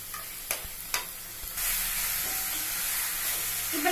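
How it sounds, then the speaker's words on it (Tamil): Ground mushrooms for a pepper gravy hit a hot pan and sizzle loudly after a few light utensil taps, a steady close frying hiss continuing as they are stirred. "இப்ப நம்ம நல்லா மிக்ஸ் பண்ணி கலக்கலாம்."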